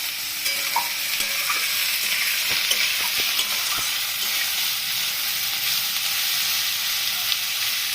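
Bengali-style fish stir-fry with potato, tomato and slit green chili sizzling in a hot pan, a continuous loud crackling fry with occasional clinks of a stirring spoon.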